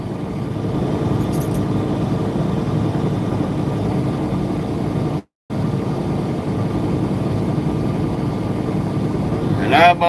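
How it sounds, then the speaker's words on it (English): Low, steady drone of a truck engine heard from the cab while cruising, mixed with constant highway road hum, briefly cutting out once midway. "Rather listen to the engine and the hum of the highway."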